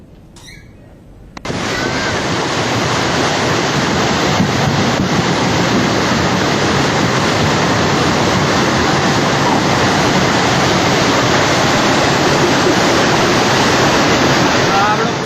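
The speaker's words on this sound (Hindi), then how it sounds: "सैलाब का ये शोर और पीछे से मचती चीख पुकार।" Floodwater roars through Bundi district in Rajasthan after relentless rain, a loud, dense, unbroken rush that surges in after a brief quieter opening and holds steady with wind buffeting the microphone.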